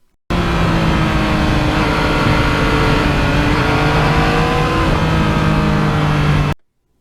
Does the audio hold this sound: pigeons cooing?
no